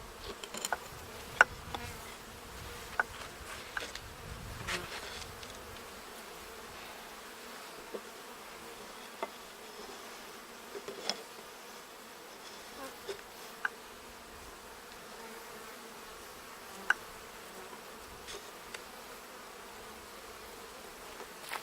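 Honeybees hum steadily around an opened backyard beehive, a dense, continuous buzz with occasional louder individual bees passing close by.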